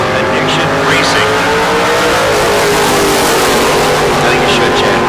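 Loud, roaring engines of drag racing cars, a Camaro and the Silver Bullet, launching down the strip at a bracket race, a dense sustained howl with a track announcer talking throughout.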